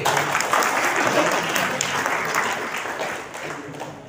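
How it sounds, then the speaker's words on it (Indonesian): An audience applauds at a labour union and labour party declaration held at Gedung Joang 45 in Menteng, Jakarta. Dense, loud clapping sustains throughout and thins slightly toward the end. "Mari kita beri aplaus buat KSP PB."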